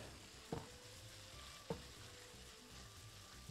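Meat frying in a pan with a steady soft sizzle, broken by two brief scraping stirs of a utensil against the pan, heard close with no talking.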